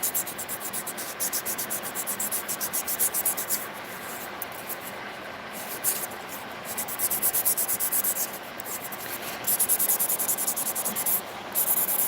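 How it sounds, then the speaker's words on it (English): Acrylic nails are filed and buffed in a continuous close-up rasping scrub, with rapid back-and-forth strokes pulsing rhythmically and brief pauses between passes, no talking. "Is buffing your favorite part of filing,"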